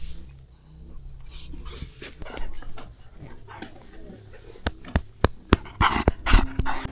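A needy dog at a remote off-grid spot in Kyrgyzstan whimpers, pants and gives short yips once the petting stops, the cries starting softly and growing into sharper, louder bursts near the end.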